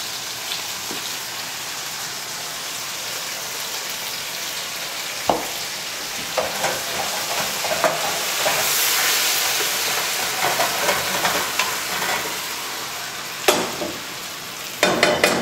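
Meatballs for Persian sour cherry rice sizzle and hiss steadily in a pan as juice is poured in, with a few sharp clinks of a utensil against the pan over the close, bright frying.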